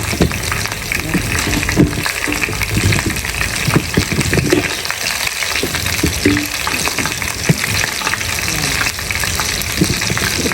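Dried fish sizzling and spitting in hot oil in a pan, with a steady loud crackle and frequent sharp splatter pops throughout.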